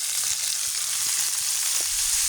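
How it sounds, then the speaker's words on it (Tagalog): Tomatoes sautéing in a hot pan for a mussel dish give off a steady, even sizzle with faint stirring clicks, heard alone and at moderate volume throughout. "Maggisa na tayo guys. Lagyan na natin yung kamatis."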